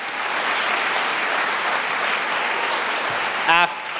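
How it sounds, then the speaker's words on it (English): A city event audience claps steadily for several seconds, a broad continuous wash of applause, with a brief voice breaking in near the end. "that deserves a big round of applause"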